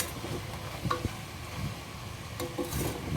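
Small-cut vegetables being stirred in a masala for Chettinad coconut milk veg biryani, with soft scraping and rubbing strokes and a low sizzle, close and fairly quiet, with occasional sharper clicks of the spoon.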